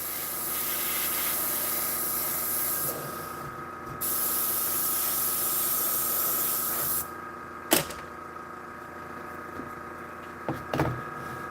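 An airbrush sprays paint onto Gaslands templates with a steady close hiss that cuts out briefly twice, followed by a few sharp clicks and taps near the end.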